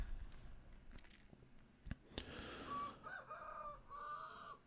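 A rooster in the video game Vintage Story crows loudly and nearby, one drawn-out cock-a-doodle-doo following a few soft clucks and small thumps, with no talk.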